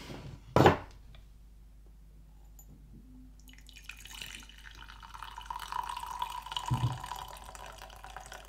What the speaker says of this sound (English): We can now pour our coffee